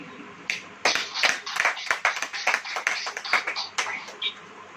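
A church congregation clapping hands during a sermon, a ragged run of distinct claps from a modest group at medium distance, uneven in rhythm, tapering off toward the end.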